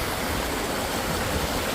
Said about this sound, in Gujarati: બાકી તમે ઝરણાનો નજારો જોઈ શકો છો કેટલું મસ્ત મજાનું ઝરણું છે